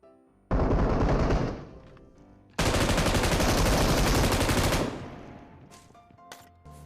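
Automatic gunfire in the mobile battle-royale game PUBG Mobile, loud, rapid sustained bursts, a shorter volley followed by a longer continuous one, then fading into a few scattered shots.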